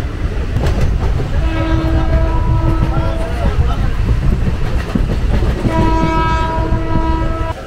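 The 12314 Sealdah Rajdhani Express running near Barrackpore, with a loud continuous rumble of wheels on rails and two long sustained horn blasts, joined by people talking nearby.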